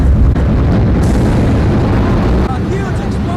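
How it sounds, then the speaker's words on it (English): A loud, sustained roaring rumble fills the whole clip, with dense low-frequency booming and crackle, like a massive nearby blast and falling debris. "A huge explosion now, raining debris on all of us."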